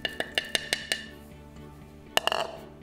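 Cookie crumbs, chocolate chunks, rum and honey are stirred together in a bowl for rum balls. A quick run of about six sharp clinks of a utensil against the bowl is followed by a pause, then a denser cluster of scraping knocks.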